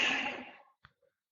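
A voice imitates a bull elk's wheeze with one long breathy, hissing exhale that fades out, followed by a tiny click and silence.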